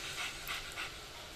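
Dogmeat, the canine companion in the video game Fallout 3, pants softly in a few quick breathy puffs, faint and alone with no talk over it.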